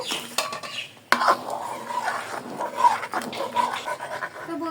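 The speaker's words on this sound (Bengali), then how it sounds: "আমি আগে থেকে ভিজিয়ে রাখা চাল ডালের মিক্সগুলো দিয়ে দিব। আরও কিছুক্ষণ কষিয়ে নিব।" Soaked rice and lentil mix being stir-fried with spices in a pot for chicken haleem, with scraping and clattering utensil sounds, a sharp clank near the start and a steady busy rustle throughout.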